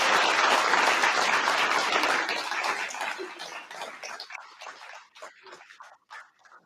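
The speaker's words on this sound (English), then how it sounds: "let's give it a round of applause for all the graduating people today" Audience applause for graduates of a guide dog class at a graduation ceremony, broad steady clapping that gradually thins out and fades to scattered claps near the end.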